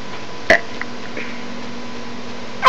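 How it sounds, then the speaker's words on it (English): A short, small burp sounds once, followed by faint clicks and a second brief throaty gulp at the end, with no talking. "I just let out a mini burp."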